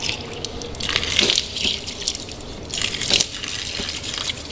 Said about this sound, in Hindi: सीधे हाथ से पानी डालेंगे और बाएं हाथ की छोटी उंगली से नाक को साफ़ करेंगे